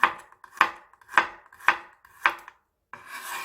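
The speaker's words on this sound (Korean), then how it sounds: "마늘은 편으로 썰어줄게요" A knife slices garlic cloves into thin pieces on a cutting board: five evenly spaced, crisp chops close up, then a rougher scraping sweep, with no talking.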